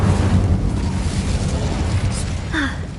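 A roaring, rumbling burst of the Incendio fire spell in a Hogwarts video game, loud and sustained across the moment, with a brief tonal chime near the end.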